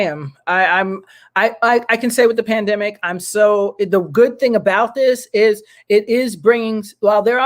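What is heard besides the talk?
No everyday noises stand out.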